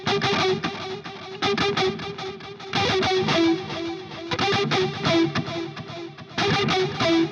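Distorted electric guitar chugging a fast galloping rhythm in repeated triplet bursts, with a couple of held notes ringing over the palm-muted pattern.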